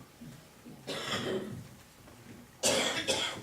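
Two coughing bursts, the first around one second, the second a sharper double cough near the end, close and fairly loud against a quiet room.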